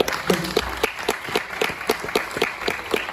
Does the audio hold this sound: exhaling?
no